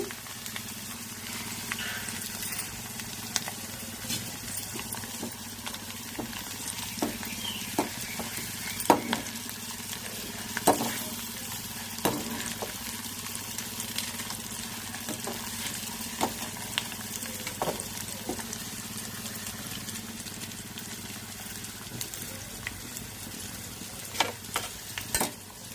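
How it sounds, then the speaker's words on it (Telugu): Urad dal, mustard seeds, cumin, chana dal, garlic and curry leaves fry in hot oil for a Telugu tempering, a soft steady sizzle with occasional faint crackles and the scrape of stirring. "పోపు వేగుతుందండి"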